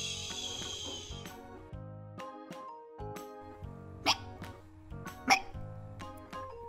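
A cartoon pig character hiccups repeatedly, sharp separate hics spaced irregularly over light animated background music, loud and close.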